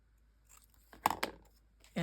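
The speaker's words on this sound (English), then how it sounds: "all I'm going to do is cut it at an angle" Scissors cutting pattern paper at an angle for a Nutcracker Christmas album craft, heard as a few close crisp snips and paper crunches bunched together after a quiet start.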